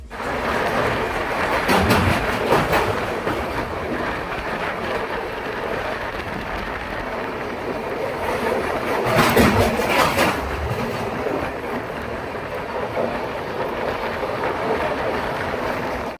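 A passenger train rolls across the Vijayawada railway bridge in the rain, a steady, continuous rumble with rhythmic clatter that swells in two louder stretches, heard from inside a general coach with no talk.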